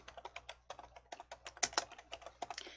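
Rapid typing on a computer keyboard, a close, quiet run of uneven key clicks with a few sharper louder strikes, no voices.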